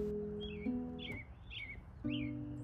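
Small birds call in the countryside on a quiet evening, a few clear chirps and short squawks spaced across a few seconds over a steady low hum, moderately close and with no voices.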